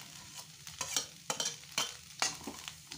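Grated carrot being stir-fried in a pan for soybean momo filling, with soft frying hiss and a series of distinct spatula scrapes and clinks spaced about half a second apart.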